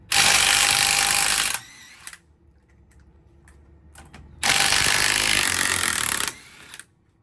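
Two loud bursts of a whirring power tool, like an impact wrench, removing tires, each lasting about two seconds, separated by quieter clanks and rattles of metal.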